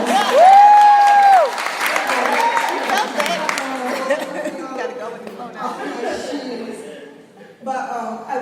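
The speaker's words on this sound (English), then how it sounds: "round of applause." Applause at an Atlanta blogging pop-up event, crowd clapping mixed with chatter and chuckles, loud at first then fading under a woman's whistle-like voice and conversation, with a brief swell near the end.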